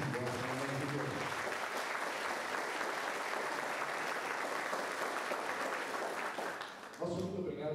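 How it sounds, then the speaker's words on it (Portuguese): Warm, sustained applause from an audience at a Panathlon sports commemoration ceremony fills the room with dense clapping for about seven seconds; a speaking voice is briefly heard at the start and again as it fades. "eu peço uma salva de palmas bem calorosa a todos os senhores"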